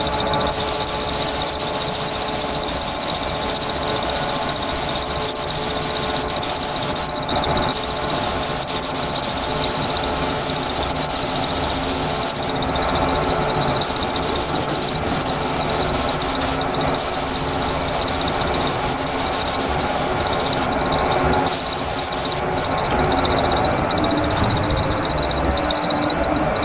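The engine of a 1938 SS Jaguar 3½ drophead runs at a steady idle, loud and continuous for the whole stretch, with some high squealing and rubbing noise over it.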